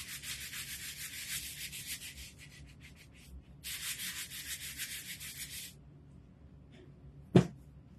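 Hand sanding a wooden cutting board: close, raspy scrubbing strokes in two long bursts separated by a short pause, then quiet, ending with a single sharp knock of wood.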